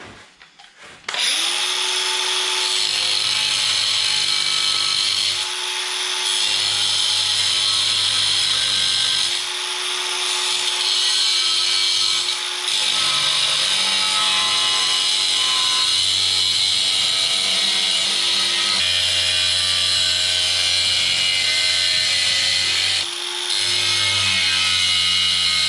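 A power tool whines steadily and loudly while cutting holes in ceramic tile, its pitch holding nearly constant with a few brief dips and pauses where the blade eases off or stops.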